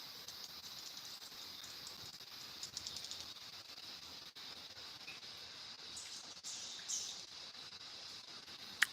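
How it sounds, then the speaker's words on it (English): High, thin chirping calls from many small swiftlets at dusk, a steady shrill band of twittering with occasional sharper notes, moderately distant over faint background noise. "That's the noise of the swiftlets."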